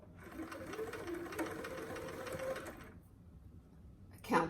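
A sewing machine stitches a collar onto a bodice, running in a steady loud whir for about three seconds before stopping, followed by quiet and a brief clatter at the end.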